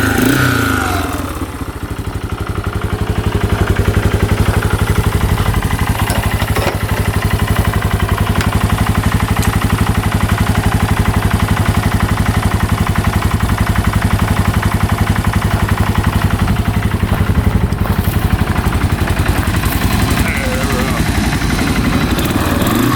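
A Yamaha 4x4 ATV engine runs loud and close for the whole stretch, rising from idle into sustained high revving with a rough, clattering mechanical tone.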